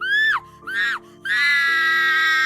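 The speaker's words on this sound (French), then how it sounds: "t'entends au loin des cris" Screams heard from afar in a tabletop role-playing session: a few drawn-out, high wailing cries rising and falling, then one long sustained shriek, loud and alone without speech.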